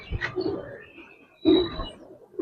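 Giribaz and coloring pigeons coo at a pigeon farm in two close, low throaty bursts, separated by a quiet gap with a faint background chirp.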